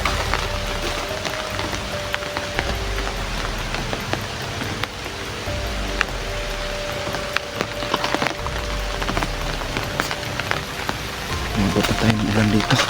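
Rain patters steadily on surfaces at an outdoor spot, a dense, continuous hiss of drops with scattered sharper taps, moderately loud throughout with no talking.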